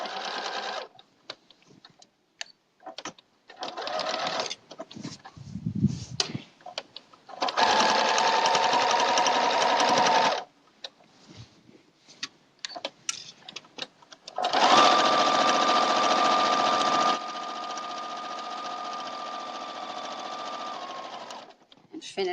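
Sewing machine stitching binding onto a log cabin quilt, running in several bursts of a few seconds each between pauses, with a person speaking during the gaps.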